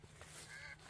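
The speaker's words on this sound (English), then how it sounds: "these ducks are noisy because they're hungry and they can hear me coming" Hungry ducks quack and honk in a brief, dense burst of overlapping calls, faint and somewhat distant, heard outdoors without talking.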